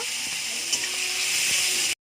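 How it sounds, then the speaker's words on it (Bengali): Spices tempering in hot oil in a wok sizzle sharply, a bright, loud hiss with small crackles that runs steadily and then cuts off abruptly. "ফোড়ন দিয়ে দিলাম"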